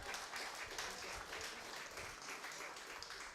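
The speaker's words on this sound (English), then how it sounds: "give them the round of applause of the century" Audience applause at a BLP constituency branch meeting in Bridgetown, a steady, dense wash of clapping from a room full of people that holds evenly throughout at moderate volume, with no talk over it.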